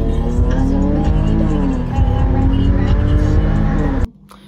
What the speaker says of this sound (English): It's a blue Dodge Challenger.